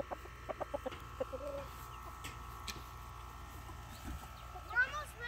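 A Barred Rock hen gives short, soft clucks while being caught by hand, with scattered faint thumps and a quiet background, ending in a louder squawk.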